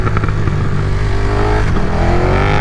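A 2022 KTM 1290 Super Duke R motorcycle accelerates hard, its engine roaring loud and close with a rising pitch as it pulls through the gears, continuous and without talk.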